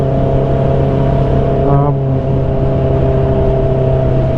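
A 2019 Honda CB650R motorcycle exhaust heard from the rider's seat: a steady, loud, low engine drone that holds an even pitch throughout, with a brief tonal wobble midway.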